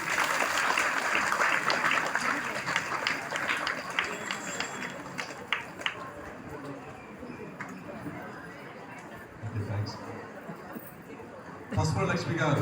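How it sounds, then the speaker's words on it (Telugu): Audience applause at a Telugu felicitation event for a lalitamma parayanam programme, a steady, fairly dense patter of clapping with chatter mixed in, fading slightly before a short renewed burst near the end. "చప్పట్లో."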